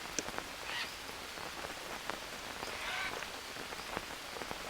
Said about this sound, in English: As much rain as there is currently going on